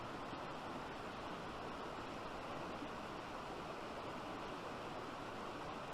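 A mountain stream rushes steadily over rocks and boulders, a constant broadband wash of flowing water at low level with no breaks or voices.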